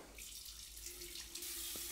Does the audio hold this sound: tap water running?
yes